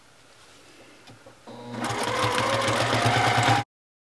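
A sewing machine stitches free-motion quilting, travel stitching along a wave pattern, with rapid needle clatter building up to a steady loud whir after a few quiet clicks, then stopping abruptly.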